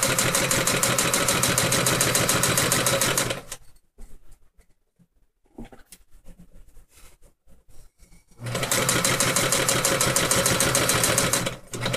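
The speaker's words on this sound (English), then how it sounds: "Sewing machines can give you problems," A sewing machine runs in loud, rapid rhythmic stitching bursts, stopping for several seconds in the middle, leaving faint clicks and handling noise, then starting again at full speed, close up.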